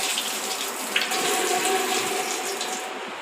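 Water running from a household tap with rusted fittings, fed by salty water, as hands are washed beneath it; a steady close splashing hiss with no talk.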